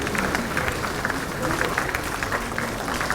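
An audience claps steadily through an appointment-letter ceremony for newly hired SSC candidates, a dense, continuous patter of many hands at moderate volume, with a speaking voice mixed underneath.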